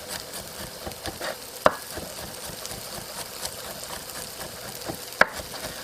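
Potatoes sizzling in a frying pan while cooking a gluten-free Greek moussaka: a soft, steady crackle and hiss with two sharp clinks of a utensil against the pan, and no talking.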